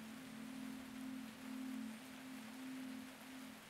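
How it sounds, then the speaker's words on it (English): Steady rain hiss from the game Antichamber, a soft even wash of falling drops under a faint low hum that gently swells and dips, with no voices. "I like the sounds of the rain."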